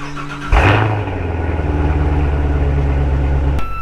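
A 2015 Chevrolet Corvette C7 with the appearance package starts up as it comes off a trailer, a sharp engine catch followed by a loud, steady, deep idle that cuts off abruptly near the end.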